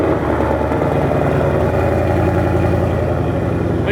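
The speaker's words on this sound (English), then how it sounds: "All I have is an X-pipe and the factory mufflers, which are extremely loud on this car." A Ford S550 Mustang GT V8 fitted with an X-pipe and factory stock mufflers runs loud and close, with a steady deep burbling engine note and no talking over it.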